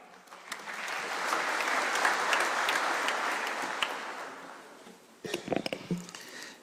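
Audience applause at an international heritage conference in Kenya, a broad steady round of clapping that swells and fades over several seconds, followed by a few louder nearby claps and brief voices.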